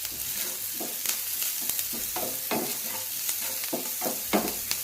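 Spoon stirring vada pav potato filling with salt in a pan: close, rhythmic scraping strokes repeat about once every half second over a steady frying sizzle, with no voices.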